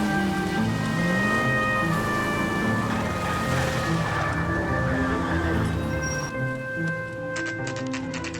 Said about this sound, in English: At least the rain stopped.